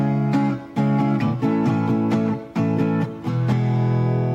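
Guitar strums a chord progression mixing sixth-string-root barre chords with an A-form minor barre chord, steady rhythmic strumming with brief gaps and a sustained final chord, heard alone up close.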